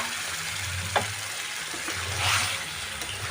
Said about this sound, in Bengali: ভেজে রাখা চিকেনটা আমি দিয়ে দিলাম।